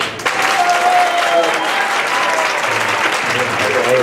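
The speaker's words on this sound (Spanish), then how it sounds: "¿Cómo aplaudiríais?" Dinner-theatre audience at a monologue night in Terrassa breaks into loud, continuous applause, dense hand-clapping filling the room from start to finish with a faint voice briefly underneath.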